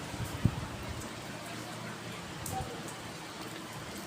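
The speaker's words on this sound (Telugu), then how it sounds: "ఇప్పుడైతే వర్షం స్టార్ట్ అయింది" Light rain begins falling outdoors near a house, a faint and even soft patter with one small knock early on and nothing else over it.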